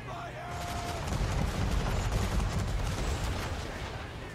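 Gunfire in the video game Assassin's Creed 3 during a naval mission, a steady barrage of shots and booms under continuous battle noise, with a voice talking over it.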